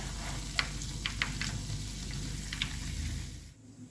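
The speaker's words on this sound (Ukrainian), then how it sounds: "Смажимо до золотистої скоринки з двох сторін." Potato-dough onion buns frying in hot oil give a steady sizzle, with small pops and crackles spread across it, close by, before the sound drops off at the end.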